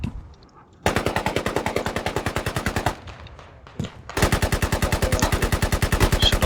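Rapid machine gun bursts in a tactical shooter match, two long fast rhythmic strings of close, loud shots separated by a short lull with faint distant fire.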